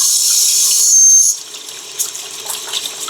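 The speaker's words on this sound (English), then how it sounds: "I'm just going to fill some water" Water runs from a tap into a laundry tub with a bright, steady hiss for about a second, then cuts back to faint trickles and drips.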